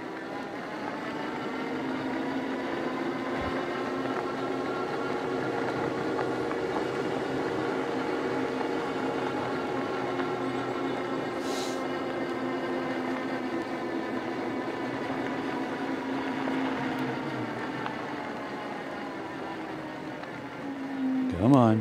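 Himiway D5 Zebra electric bike climbing a steep hill at full throttle on a cold morning, a steady motor whine with layered harmonics running continuously and fairly close, a voice speaking briefly near the end.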